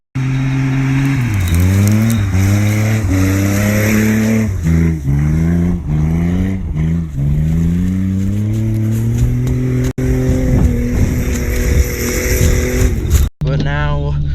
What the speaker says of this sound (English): I need to be in first and neutral slam it to get the wheel spinning